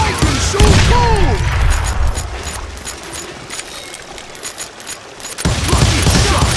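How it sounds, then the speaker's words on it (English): Gunfire in the Western shooter game Call of Juarez: Gunslinger: loud, dense volleys of shots crackle at the start and return near the end, with a thinner stretch of shooting in between and brief voice-like sounds early on. "I can shoot too!"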